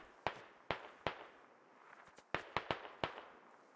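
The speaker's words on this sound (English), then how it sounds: "they're taking shots at him" Gunshots from players firing in the military shooter game Squad, a series of about seven sharp, fairly distant cracks in an irregular rhythm, some in quick succession, with no talking.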